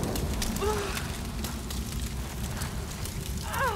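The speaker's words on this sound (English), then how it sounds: "It's on fire!" A fire burning in the Tomb Raider game gives a steady, crackling, rushing roar throughout, with faint whistling tones rising over it now and then.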